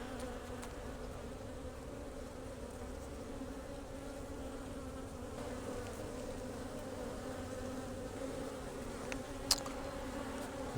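Honey bees swarm and buzz steadily inside an opened hive during a beekeeping split, a dense continuous drone close by and agitated, with a brief sharp click near the end.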